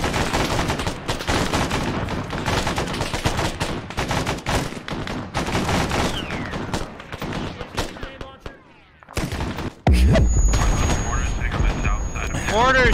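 Gunfire and explosions in the video game ARMA: rapid bursts of shots and heavy booms, loud and dense, a short lull then another loud blast, with voices talking over the combat.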